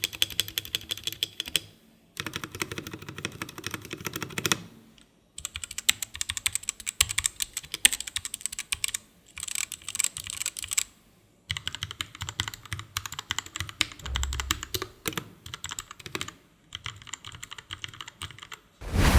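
Rapid typing on two mechanical gaming keyboards, a Royal Kludge RK61 and a Redragon Draconic K530 Pro with yellow switches, gives dense bursts of clicky keystrokes broken by brief pauses, close and clear with no voices.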